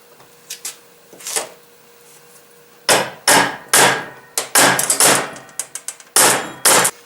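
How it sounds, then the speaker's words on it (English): Sharp metallic hammer blows on a large socket driving in a rear axle seal on a Nissan D21 Hardbody, a few light taps followed by a string of louder, irregular strikes, close by. "So a large socket like that, and install the seal on."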